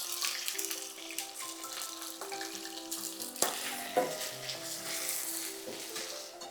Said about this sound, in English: here are the aubergine cubes, which have been purged, remember? They've been purged, they've been washed, and they're now ready to hit the hot oil.